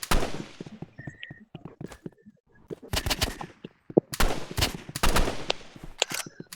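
Video game gunfire crackles in rapid bursts and single shots, loud and close, with sharp repeated cracks scattered throughout and brief gaps between volleys.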